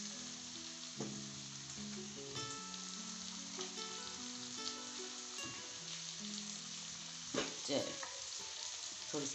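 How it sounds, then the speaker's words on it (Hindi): Afghani aloo karahi masala fries on high heat in a karahi while being stirred, giving a steady close sizzle with occasional scraping strokes over soft background music. "आंच हमने फुल की हुई है इसको तेज़ आंच पे पकाना है। साथ साथ इसको हिलाते जाना है।"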